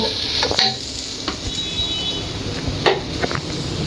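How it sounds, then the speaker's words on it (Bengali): Nigella seeds fry in mustard oil in a pan for dal, a close, fairly loud sizzle with a few quick metallic scrapes and knocks as the seeds are stirred, and no talking. "এখন সুন্দর করে এটাকে একটু ভেজে নিব"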